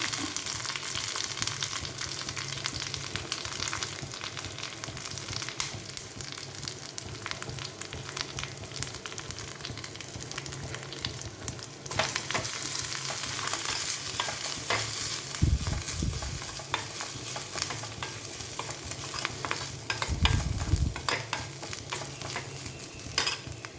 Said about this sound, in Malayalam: ഇനി നമുക്ക് അല്പം കറിവേപ്പിലയും ഒരല്പം തേങ്ങയും ചേർത്ത് കൊടുക്കാം